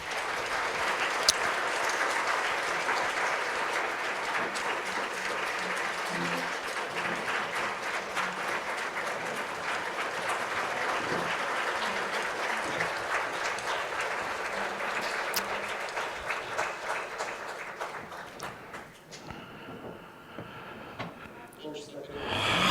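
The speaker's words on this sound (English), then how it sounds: "Please applaud." A conference audience at a session on law, politics, economy and mass media breaks into sustained, even applause that carries on at a steady level for a long stretch before thinning out at the end.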